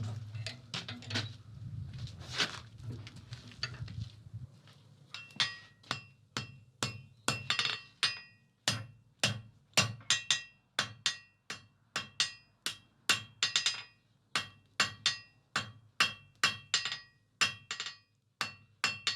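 Hammer blows ring out on a steel rabbit head being forged, the taper drawn out on the face: a steady run of sharp metallic strikes with a ringing tail, close and loud, after an opening stretch of rumbling forge noise.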